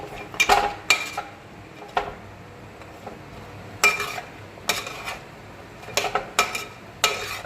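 A utensil scrapes and clinks against a pan in irregular bursts as fried plantain pieces are mixed with jaggery, with quiet stretches between the strokes and no one talking.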